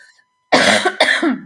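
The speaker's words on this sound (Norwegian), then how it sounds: "Beklager hostinga, jeg har nettopp vært forkjølet også." After a brief near-silence, a person with a recent cold coughs twice in quick succession, loud, close and harsh, each burst breaking off into a rough rasp.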